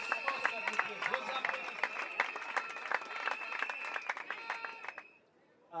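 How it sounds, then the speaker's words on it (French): Applause from a graduation-ceremony audience in a hall, steady dense clapping with bright sharp hits and a long tone running underneath, sustained for about five seconds before cutting off abruptly into near silence. "Vos applaudissements,"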